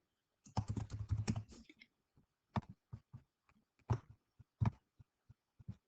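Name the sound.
typing on a computer keyboard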